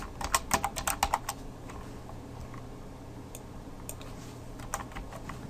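Quick bursts of keystrokes on a computer keyboard clatter close by, a busy flurry at first, then sparse isolated taps over a quiet room hum.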